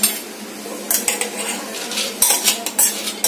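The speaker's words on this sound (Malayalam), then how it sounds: "അത് നമുക്ക് ഈ കുക്കറിലേക്ക് ഇട്ട് കൊടുക്കാം." Soaked moong dal is tipped into a pressure cooker, with several sharp metallic clinks and scrapes of a spoon against the pot in a quiet kitchen.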